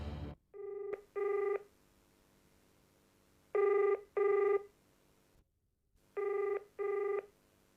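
A telephone rings in a Hindi TV serial scene, three pairs of electronic double rings separated by pauses, loud and clear with no one speaking.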